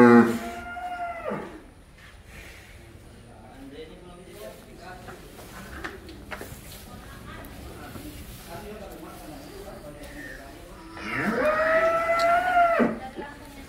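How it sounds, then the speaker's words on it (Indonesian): Sacrificial cattle moo loudly and up close, with one long low call at the start and another drawn-out moo near the end. A quieter stretch of background noise and voices comes between the calls. "Ini sapi yang kita curigai."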